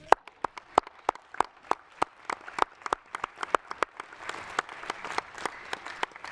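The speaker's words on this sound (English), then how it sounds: "I will applaud him for his lively presence as always" Applause for Xavier Bettel at a parliamentary assembly sitting, a sparse round of distinct claps with a sharp near clapper leading, steady at first and then thickening into a fuller, faster patter toward the end.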